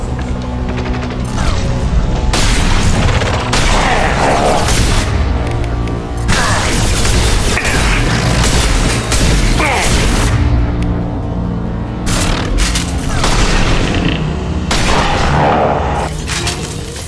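Sustained, loud turret fire in the Mass Effect 2 Legendary Edition battle, with dense bursts of shots, crashing impacts and booms layered over a thick combat mix that runs for the whole stretch.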